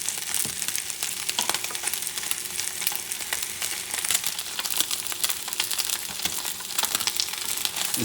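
Wagyu steak sears in a hot frying pan, giving a steady, close crackling sizzle that holds at an even level throughout, with no talking over it.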